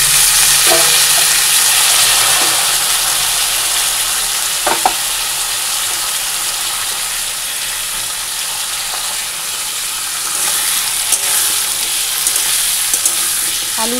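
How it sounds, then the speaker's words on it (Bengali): Potatoes frying in a pan, a loud, steady hiss and crackle that runs throughout, with occasional clinks of a utensil stirring. "আলুটা একটু ভেজে নিয়ে"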